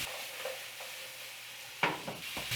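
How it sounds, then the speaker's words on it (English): A spatula moves through a pan beside a steady background sizzle, with a few soft scraping strokes near the end. The sounds are close and fairly quiet, and no one is speaking. "I switch to my spatula so I can get in there and stir everything around"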